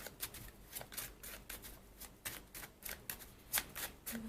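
Tarot cards are shuffled by hand in a quiet room, a steady run of soft, rapid riffling and slapping bursts with no talking.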